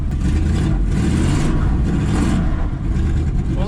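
A 1970 GMC truck engine, its timing set too far advanced, runs loud and close with a rough, continuous mid-range rumble and faint revving swells, while no voices are heard.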